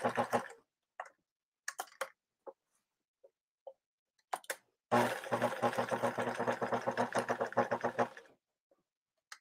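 Sewing machine stitching lace onto clothes, with short stop-start bursts of ticking stitches at first, then a longer steady run of rapid close mechanical chatter before stopping.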